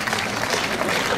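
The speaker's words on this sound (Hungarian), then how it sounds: "Köszönjük a tapsot." Audience applause for child performers bowing at a retirees' club show with a women's choir; a short, dense wash of clapping at close range.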